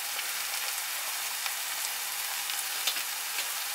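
Ground garlic and tomato paste fry in a pan, giving a steady crackling sizzle with small pops, moderately close and with no voice.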